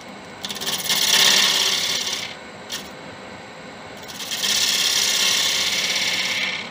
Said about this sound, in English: Get a gouge, clean up that edge.